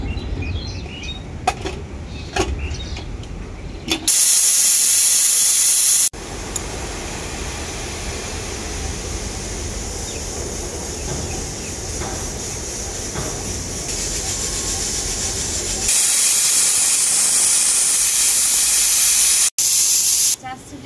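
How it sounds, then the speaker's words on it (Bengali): A pressure cooker cooking goat meat gives two loud, sustained bursts of hissing steam from its whistle, with a softer steady hiss in between. "এরপর আমি ঢাকা দিয়ে 4 সিটিয়েই রান্না করে নেব, কারণ এটা 4 সিটিতেই হয়ে যাবে"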